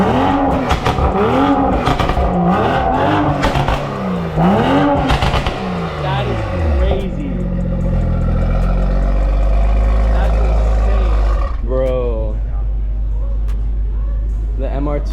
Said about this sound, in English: Can we get a little exhaust clip for the YouTube?